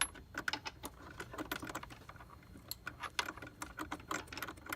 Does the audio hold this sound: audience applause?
no